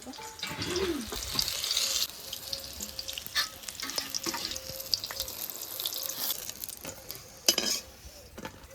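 Fritters (bora) fry in oil with a steady, nearby hiss and crackle, broken by irregular stirring scrapes and spattering pops. The sound is fairly quiet throughout and no one speaks.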